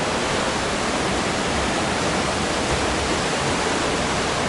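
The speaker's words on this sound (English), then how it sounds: "Not bad, you got rushing river." A rushing river in rural Kyrgyzstan near a small natural hot spring makes a loud, dense, continuous roar of white water, close by and steady throughout with no voices.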